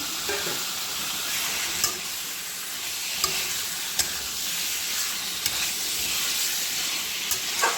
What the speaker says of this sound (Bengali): এটা একটু কষতে দেখ, তারপরে এটার মধ্যে আমি জল দিয়ে দেবো।